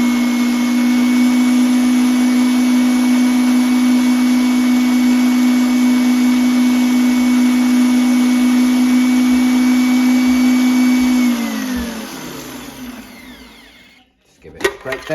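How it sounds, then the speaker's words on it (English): An electric whisk mixes toad in the hole batter of flour, eggs and milk, whirring loud and steady with a high motor whine for about eleven seconds, then winding down to a stop with a few clinks in the bowl. "Just whisk it through."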